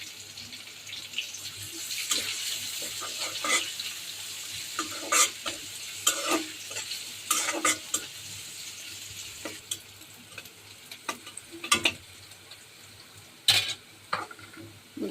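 Onion sizzles in hot oil with fried garlic in a home kitchen pan, a soft continuous frying hiss broken by sharp clinks and scrapes of a stirring spoon, with running water briefly heard nearby.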